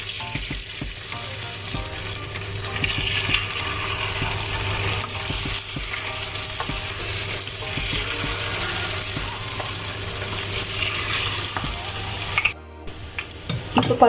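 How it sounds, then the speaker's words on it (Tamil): Prawns deep frying in hot oil for a crispy prawn fry: a loud, steady, continuous sizzle and bubbling fills the whole stretch, with a brief drop-out near the end and no voices. "அடுத்ததாக ப்ரான்ஸ்லாம் ஃப்ரை பண்ணி எடுக்கலாம்"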